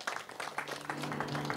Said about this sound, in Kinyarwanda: rero ntekereza ko nabo mwanyemera mukabakiriza amashyi menshi cyane